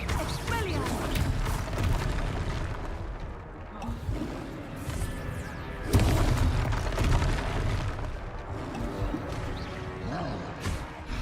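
A spell cast in the game Hogwarts Legacy during a battle, with dense, loud booming and crashing effects that run almost the whole way through, two sharp impacts rising above the rest, and voices shouting over the din.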